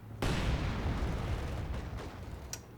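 A single heavy mine blast erupts beneath a Panzer Grenadier squad in Company of Heroes 2, a loud boom with a long rumbling decay and a faint sharp crack near the end.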